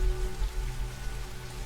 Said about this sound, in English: People do not stand out in the rain and do this.